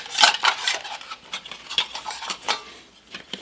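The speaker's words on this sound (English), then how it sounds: "And this is the lid to the pan there." A metal pan lid from a vehicle get-home bag is handled up close, giving a quick irregular run of bright clinks and taps of moderate loudness, with no talking.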